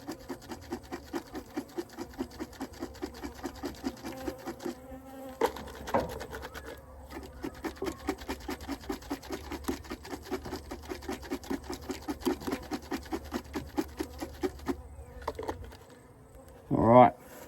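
Honey bees buzz during a hive inspection in a steady, rhythmic drone that pulses evenly with occasional louder bursts, close to the listener.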